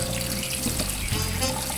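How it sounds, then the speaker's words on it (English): Cooked lasagna noodles in a colander get rinsed under cold water from a sink tap, a steady close rushing splash with a faint low hum beneath and no voices. "We're going to get them into a colander and rinse them off with cold water."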